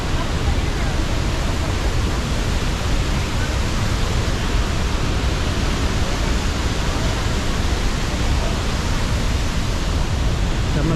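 Athirappilly waterfall pours with a loud, unbroken broadband roar of crashing water that fills the whole scene evenly from start to finish.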